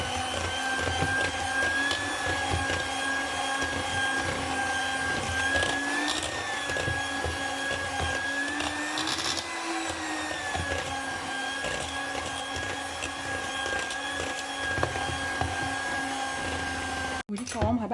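An electric mixer beats Lotus cheesecake batter with a continuous steady motor whine and slight wavering pitch throughout, stopping abruptly near the end.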